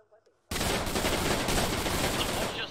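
Gunfire in Arma 3 during a Vietnam mission: after a brief quiet moment, a dense, loud, continuous burst of automatic fire and rattling shots breaks out and keeps going, with voices faintly mixed in.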